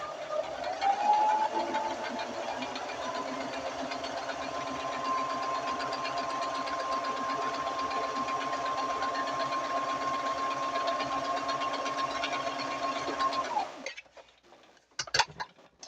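A sewing machine stitches a fabric ice pack case in one long continuous run, a loud, even mechanical hum that stops abruptly near the end, followed by a few handling clicks.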